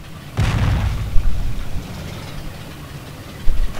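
A Panzer IV tank explodes and burns in the Forgotten Hope 2 game on the Pegasus Bridge map: a loud, close, deep boom gives way to a low burning rumble, with a second sharp pop near the end.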